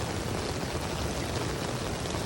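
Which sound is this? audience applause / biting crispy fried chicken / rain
rain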